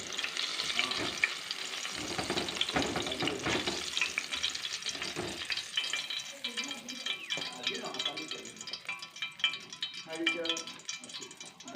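Onion pakora fry in hot oil with a dense, crackling sizzle up close, the bubbling thinning into lighter pops as they are stirred and lifted out.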